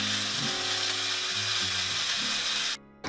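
A mixer grinder runs steadily, grinding rasam powder spices with a little turmeric into a coarse mix; a loud continuous mechanical whir with rattling, cutting off abruptly near the end.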